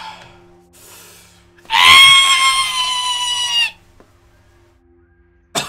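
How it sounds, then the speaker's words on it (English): A player in a tabletop Dungeons & Dragons 5e session lets out a loud, strained, high scream lasting about two seconds, harsh and almost crow-like, after quiet room noise and before a brief knock. "Can you give me a good scream?"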